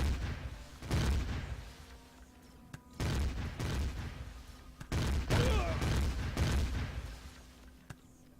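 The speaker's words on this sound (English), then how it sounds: "Now I've got two of them shooting at me." Enemy gunfire in the space survival game Empyrion: Galactic Survival, with several sharp, loud shots and bursts landing about a second apart over a rumbling background during a radar base attack.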